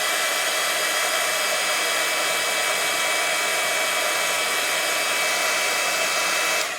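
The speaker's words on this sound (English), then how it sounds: "Let's dry it, otherwise I could ruin it. So I'm going to just dry this off." A hair dryer drying a freshly stamped handmade greeting card runs as a steady, loud, unbroken whoosh with a high motor whine, alone with no talking.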